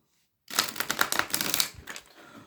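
Oracle cards being shuffled by hand for a weekly reading, a dense burst of rapid papery riffling and slapping that starts after a short silence and runs for about two seconds, close and fairly loud.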